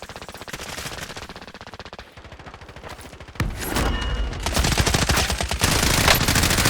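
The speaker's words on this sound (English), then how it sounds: "I'm getting fucking shot in my back" Rapid video game gunfire as the player takes shots in the back: dense bursts of automatic fire, loud and close, with a heavier, louder barrage after a brief lull.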